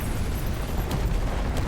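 An explosion in Final Fantasy XVI, a loud, dense rumbling blast with a continuous low roar and a couple of crackling bursts, with no talk over it.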